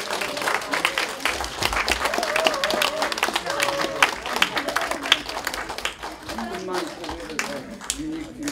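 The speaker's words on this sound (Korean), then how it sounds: "큰 박수로 환영해 주세요." Applause from the audience welcoming the performers onto the stage at a founding general meeting of an alliance association, continuous clapping and crowd noise under a melodic tone and a talking voice throughout.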